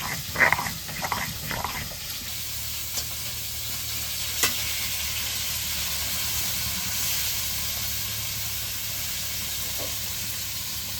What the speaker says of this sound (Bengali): বাকি মাছগুলো ভাজা হয়ে গেল